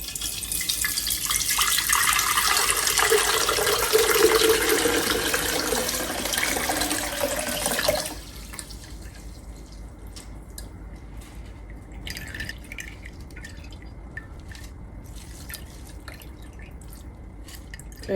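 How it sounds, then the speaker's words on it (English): Liquid coffee poured through a fine mesh strainer gives a steady, close splashing pour for about eight seconds, then cuts off, leaving a few faint drips and light handling clatter. "So she puts it through a fine mesh strainer, which I have here."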